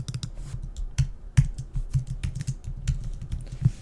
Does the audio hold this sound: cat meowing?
no